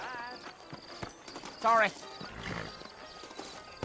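Horse hooves clip-clop in the Red Dead Redemption video game, with a short whinny in the middle. The hoofbeats sound faint under speech.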